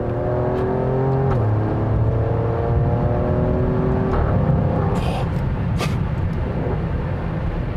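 Alfa Romeo Stelvio Quadrifoglio accelerating hard from inside the cabin, a loud rising engine drone with a gear shift, followed by sharp exhaust bursts and crackles near the end.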